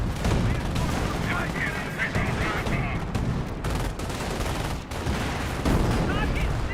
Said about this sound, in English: And do have a nice little incendiary mortar there on the AT gun as well.